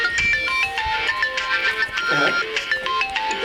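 A phone ringtone plays loud and near, a melodic electronic tune of quick stepped tones repeating over the whole stretch, with faint background noise.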